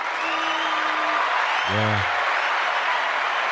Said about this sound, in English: let me give you a round of applause for joining us.